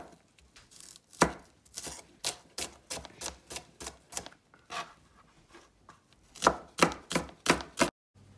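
Onions being chopped on a board, a close, crisp series of rapid knife strikes in uneven bursts with brief pauses between runs.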